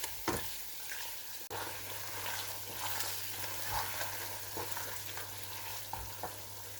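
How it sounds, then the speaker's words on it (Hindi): Spices and mutton frying together in a pot, a soft steady sizzle with occasional stirring knocks and scrapes over a low hum. "अब इन सब मसालों को हम अच्छी तरह से गोश्त के साथ भूनेंगे।"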